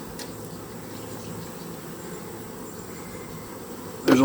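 Honeybees buzzing steadily during a post-harvest mite wash, a dense close hum throughout that ends with a sudden loud knock.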